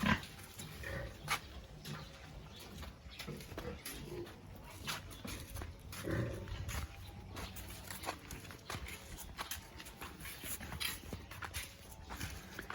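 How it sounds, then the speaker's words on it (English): Low grunting and snuffling from pigs in a piggery mixed with shuffling and clattering movement, steady barnyard noise throughout with no talking. "Okay, that was the piggery."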